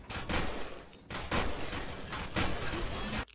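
Space station turret fire in Empyrion: Galactic Survival: three or four heavy, booming bursts of gunfire spaced about a second apart, loud and close, ending in a sudden cutoff.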